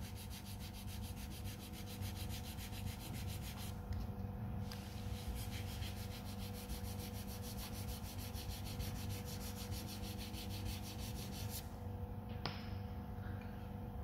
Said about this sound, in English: and we'll just sand.